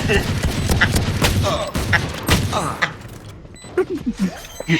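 Bursts of rapid gunfire from a golden gun ring out in a last-player-standing shooter game, dense volleys with sharp reports in the first three seconds, then scattered shots, with voices talking over the action.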